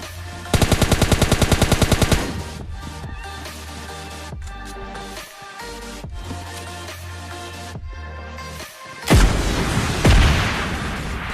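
Video game gunfire: a rapid, loud burst of automatic shots opens, followed by scattered single shots and a heavy RPG explosion boom near the end that trails off in a rumble, with no talking.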